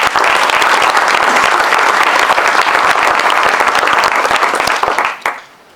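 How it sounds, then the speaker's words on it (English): Audience applause at a professorial inaugural lecture, a dense sustained round of clapping from a large crowd that fills the room and then tapers off sharply near the end. "Let's give another round of applause."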